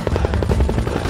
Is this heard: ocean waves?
no